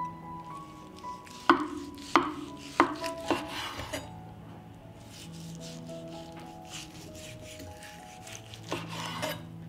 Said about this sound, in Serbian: Dok čekam da voda proključa, iseći ću jednu dimljenu butkicu.